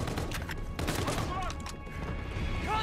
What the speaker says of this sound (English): I'm just gonna shoot randomly